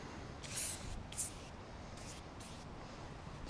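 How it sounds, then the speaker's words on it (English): Aerosol foam degreaser sprayed onto a greasy surface in two short, loud hissing bursts early on, followed by a few softer, fainter spray hisses over steady background noise. "This is the aerosol."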